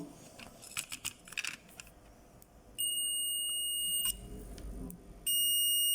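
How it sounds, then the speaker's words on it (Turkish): After some handling clicks, a DT830D multimeter's continuity buzzer sounds a high, steady electronic tone twice, each time lasting over a second, close and loud. "Evet buzzer'ımız çalışıyor."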